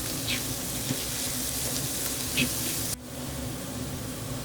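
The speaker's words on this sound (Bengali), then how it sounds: "তারপরে কুচো করে রাখা পেঁয়াজগুলোকে এর মধ্যে দিয়ে ভালো করে ফ্রাই করে নিচ্ছি।" Chopped onions frying with ginger paste in a pan, a steady close sizzle with faint clicks of stirring, dropping to a softer hiss partway through.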